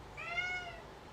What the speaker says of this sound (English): he'll just sit with it and meow until you play with it